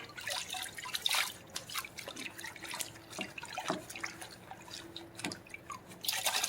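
Liquid drips and trickles from a squeezed polishing pad, a quiet, irregular patter of small splashes and dribbles heard close up, with no talking.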